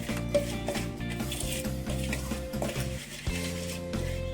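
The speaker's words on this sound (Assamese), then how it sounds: "এইখিনি এতিয়া মই আমৰ লগত মিক্স কৰাই দিম।" Mango pieces are stirred by hand with cooled mustard oil for a pickle, giving a steady scraping and clinking of utensils against a bowl over a soft, continuous tonal backdrop.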